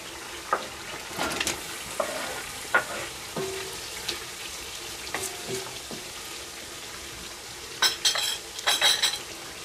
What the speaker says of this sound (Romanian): întâi vom căli foarte puțin sfecla roșie, foarte puțin trasă în ulei, după care vom adăuga apă